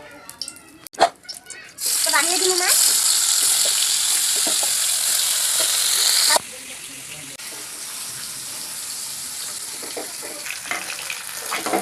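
Fish frying in a little oil gives a bright, loud sizzle that bursts in after a few soft clatters and later drops to a quieter steady crackle, with spatter and utensil noises throughout.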